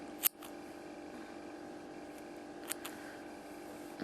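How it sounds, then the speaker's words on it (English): Blunt scissors snip through crochet yarn in a quiet room, making one quick, faint cut near the start and a softer click later, with no voices. "we're going to cut our yarn."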